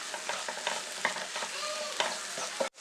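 A bread snack stir-fried with masala in a pan, giving a close, steady sizzle broken by several scraping stirs of a spoon, ending abruptly.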